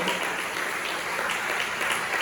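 Steady applause from a church congregation during a Spanish-language worship service, dense and even throughout, with no pauses or talk over it.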